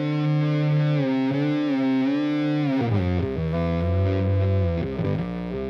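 Electric guitar run through an S-bend harmonizer effect, producing a continuous loud, distorted tone that glides and warbles in pitch, with a deeper sliding drop partway through, heard alone without talk.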